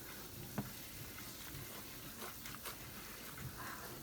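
Onion and mushroom gravy simmering down in a pan, a quiet, continuous sizzle with a few soft clicks and stirring touches, no talking.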